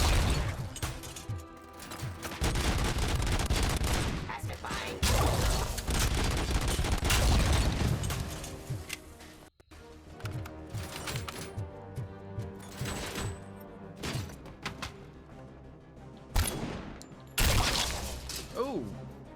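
Gunfire in the RoboCop: Rogue City game, with loud bursts of shots, crashes and impacts coming in waves over about twenty seconds, amid mechanical clatter and game voices.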